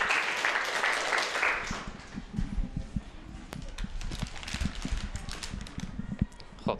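Audience applause at a televised quiz-style program, a dense clatter of clapping that starts loud and continues steadily with scattered louder claps.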